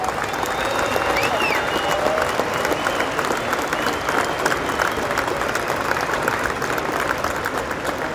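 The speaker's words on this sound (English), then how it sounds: "One more round of applause for the Pittsburgh Pirates Hall of Famers and their families." A large crowd gives sustained applause for Pittsburgh Pirates Hall of Fame inductees and their families at a ballpark ceremony, a dense, even roar of clapping with faint echoing announcer speech in the background.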